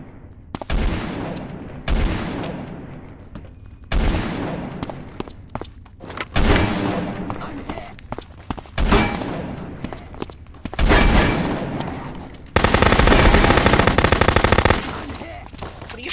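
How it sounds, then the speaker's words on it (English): Gunfire aimed at the player in Fallout: New Vegas, repeated loud bursts of automatic shots separated by short pauses, ending in a long sustained volley. "What are you shooting me for?"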